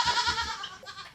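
A goat bleats twice in quick succession, a wavering nasal cry close by, followed by a shorter, fainter call.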